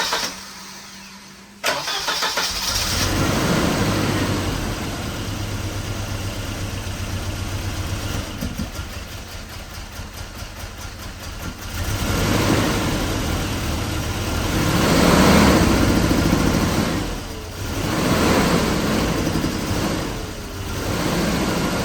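A long-abandoned Volvo 242 Turbo cranks and fires, then settles into a loud, rough idle with uneven revs that rise and fall over about twenty seconds.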